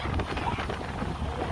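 Strong wind buffets the microphone during a fishing outing at Ocho Rios, Jamaica, a steady loud rumble that runs through the whole stretch with faint voices under it.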